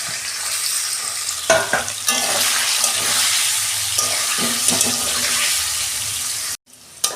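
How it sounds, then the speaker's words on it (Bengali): Paneer pieces fry in white oil in a wok with a loud continuous sizzle, punctuated by several scraping and stirring clatters, then a short break and a brief burst of sizzle at the end. "একসঙ্গে দিয়ে ভেজে নিচ্ছি সব।"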